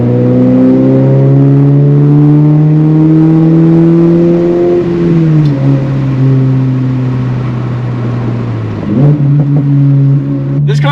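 A Subaru BRZ/GR86 sports car driven hard on canyon roads, its engine droning loud and close, pitch holding, dropping on a shift, then climbing again with faint clicks near the end.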